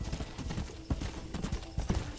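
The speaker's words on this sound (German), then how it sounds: "So ein schönes Pferd." Horse hooves clip-clopping in the video game Red Dead Redemption, a brisk steady rhythm of close hoofbeats over a soft ambient bed, with no talk.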